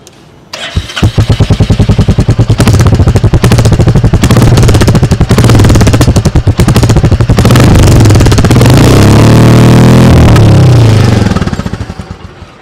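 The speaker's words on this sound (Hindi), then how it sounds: "सुना आपने इसका एग्जॉस्ट नोट" A 2022 Royal Enfield Classic 350 motorcycle fires up and idles close by, its 350cc single-cylinder exhaust giving a loud, steady thumping beat for about ten seconds before fading out.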